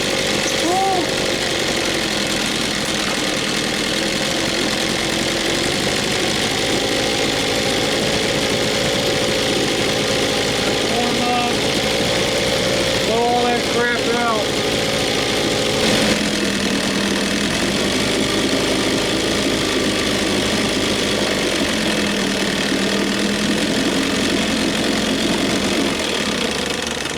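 A 6 hp Evinrude outboard motor idles steadily throughout, a continuous mid-pitched engine drone with a slight knocking edge, close and fairly loud, with faint voices briefly over it.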